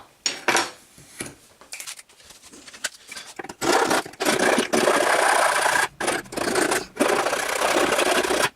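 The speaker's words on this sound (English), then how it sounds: "it needs a big bit of filing now. So I'll do that" A file rasping metal while building a homemade wind turbine: bursts of scraping strokes, sparse and uneven at first, then longer sustained passes near and loud, with short pauses between runs.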